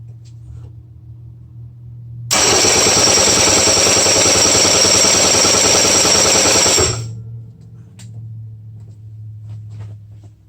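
A 352cc T4 engine cranks over for a compression check, a loud rhythmic chugging starter burst of about four seconds between quieter stretches of low background hum.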